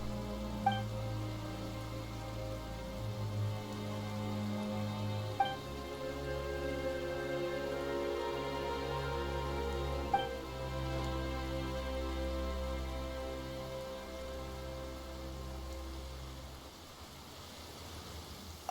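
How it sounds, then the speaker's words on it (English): Steady rain patters on surfaces in the Genshin Impact game world, a continuous soft hiss under a low musical drone, with no talking. "Why is it raining all of a sudden?"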